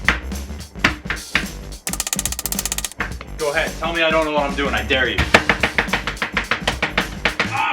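An onion is chopped with a knife on a cutting board: quick, sharp knocks come in a rapid rhythm, some mixed with a person's speech and others coming in short bursts on their own.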